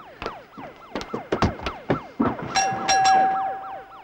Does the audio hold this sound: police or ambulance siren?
yes